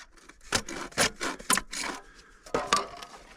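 A Stanley FatMax hand saw cuts through a water line pipe outdoors in a series of about seven short, rasping back-and-forth strokes, close and moderately loud.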